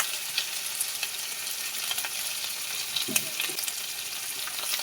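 Turmeric and chili powder fry in hot oil in a pan with a steady, close hiss and sizzle, broken by a few soft scraping stirs, with no voices.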